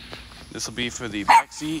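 A dog gives one short, sharp bark close by, cutting briefly across a person talking about car floor mats.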